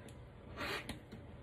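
A rotary cutter with a dull blade slices through quilt fabric squares, giving one short close rasping cut with a quieter scrape after it.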